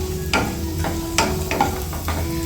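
Potatoes fry in a pan in a soft, constant sizzle, broken by four or five quick scraping strokes of a utensil stirring them close by.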